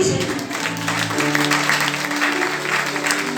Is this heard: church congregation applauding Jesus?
yes